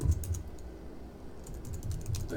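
Someone types on a computer keyboard, with quick, uneven clusters of key clicks at close range and no talk over them.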